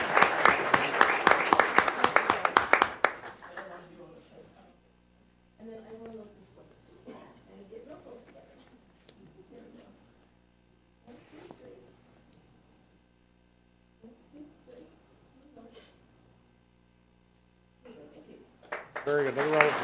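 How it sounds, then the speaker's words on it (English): A burst of loud audience applause for a student named Nathaniel at a school board meeting fades within three seconds. A speaker then talks at length, and clapping swells again right at the end. "A big round of applause for Nathaniel."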